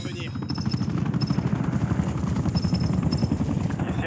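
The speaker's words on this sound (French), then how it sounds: "Nakom, demandez à l'hélico de surveillance d'intervenir." A surveillance helicopter in the Black Ops 6 shooter game thumps steadily with a fast rotor chop close by, loud and continuous, with gunfire-like bursts mixed in.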